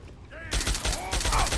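Gunfire in the video game Fallout 3: after a brief lull, loud rapid bursts of shots crackle almost continuously, punchy and close.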